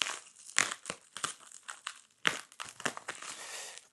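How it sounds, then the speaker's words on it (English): Packing tape being cut and pulled away with a worn craft knife, irregular crinkling rips and snaps close up, in uneven bursts with short pauses. "to cut away all of the packing tape very, very quickly."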